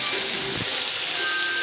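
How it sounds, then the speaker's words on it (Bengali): Rain falls steadily in a video game as a soft, continuous hiss of drops, even and moderately loud throughout the short stretch, with no voice. "ও বৃষ্টি পড়ছে।"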